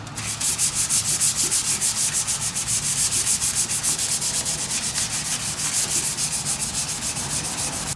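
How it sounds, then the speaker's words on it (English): Rapid, rhythmic back-and-forth rasping of sandpaper on wood, steady and close, continuing throughout at an even pace. "I'm going to do a little hand sanding with that."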